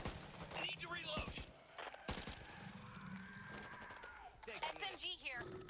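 Gunfire in the video game Back 4 Blood, with bursts of rapid shots mixed in with character voices and game sound effects, moderately loud throughout.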